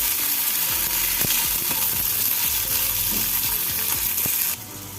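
Loud, continuous sizzling of tomatoes and spices frying in a pan for egg curry, with repeated scraping stir strokes close up, ending slightly quieter, no voices.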